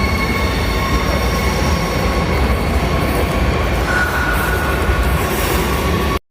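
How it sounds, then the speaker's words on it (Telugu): A train rolls past nearby at a railway station with a continuous loud roar, metallic rumble and faint wheel squeal, ending abruptly. "ట్రైన్ స్టేషన్లో ట్రైన్ కోసం అయితే వెయిట్ చేస్తుంటే ఈ ఇంట్రెస్టింగ్ ట్రైన్ నాకు కనిపించింది"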